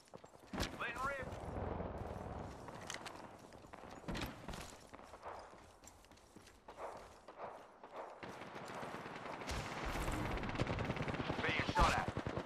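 Gunfire in Apex Legends rings out as repeated sharp shots and short bursts across the clip, growing denser toward the end, mixed with voices talking over the action.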